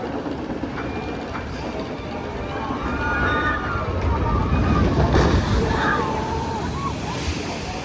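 Water ride splashing at Cedar Point amusement park, a broad rushing wash of water that swells in the middle and slowly eases, with crowd voices and talk mixed in.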